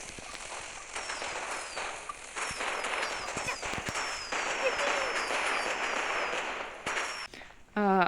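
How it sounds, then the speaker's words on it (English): Fireworks go off in a Genshin Impact teapot, with repeated rising whistles and crackling bursts over a dense, continuous game soundscape. "I have a bunch of fireworks here."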